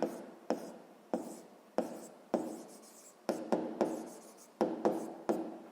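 A pen writes by hand on paper during a sixth-grade math exercise, producing close, rhythmic scratching strokes in short bursts, about ten distinct strokes with brief pauses between them, and no talk.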